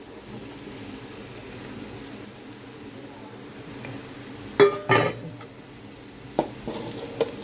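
Prawns tipped into a pan of spiced egg mixture and stirred, with soft sizzling, a few sharp clinks and scrapes of a utensil against the pan, and quiet stirring between.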